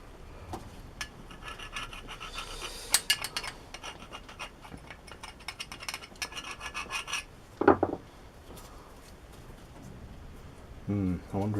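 Intermittent scrubbing and rasping on a rusty Myford vertical milling slide in a workshop, with irregular strokes, a few sharper knocks, quiet gaps and light talk in the background.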